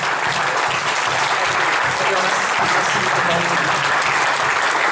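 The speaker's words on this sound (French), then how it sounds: "On acclame très très fort pour le roi des rois." Loud, sustained applause from a church congregation at a Sunday service in Paris, dense clapping filling the whole stretch without pause.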